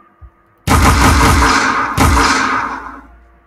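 Two loud, close gunshot blasts from a third-person shooter game, each a sharp bang trailing into a booming decay, spaced about a second apart with no talk over them.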